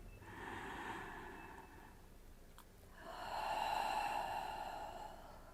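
Two long, slow, soft breaths during a pilates exercise, each a gentle airy exhale, heard close and quiet in a calm room with no talk.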